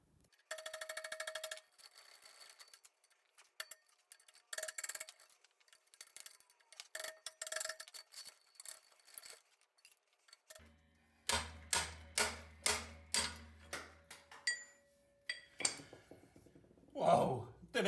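A hammer and chisel cut out the rear axle bush on a Ford Ka rear beam. Scattered metallic clinks are followed by a steady run of sharp, close, ringing strikes about one per second.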